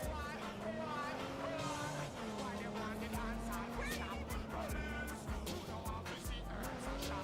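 A car drives through the streets in Watch Dogs 2 with a continuous engine hum and shifting revs that run underneath steady conversation from several voices.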